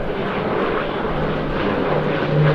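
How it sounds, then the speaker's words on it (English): Grumman Tracker anti-submarine aircraft with twin Wright R1820 Cyclone radial engines, heard as a steady, fairly loud engine drone with a low hum running throughout at an air display. "one of the important points about the Tracker when it first appeared was it was radial engined rather than turboprop"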